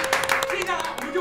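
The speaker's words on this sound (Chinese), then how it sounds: "鼓掌！" Wedding guests break into quick, scattered clapping as the ceremony begins, the claps mixed with voices and a sustained musical tone.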